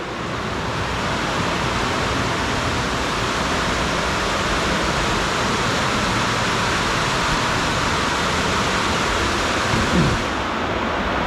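Heavy typhoon rain from Typhoon Uwan pounds around a house, a dense, steady roar that stays loud and unbroken throughout, with no voices.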